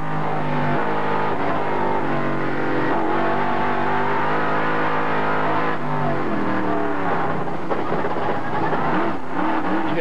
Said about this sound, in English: you hear the truck kind of hesitate right there